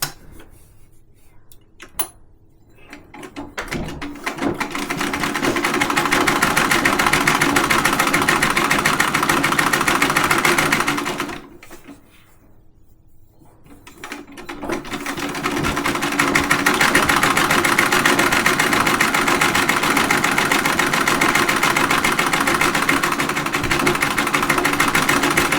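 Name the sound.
treadle sewing machine stitching quilt binding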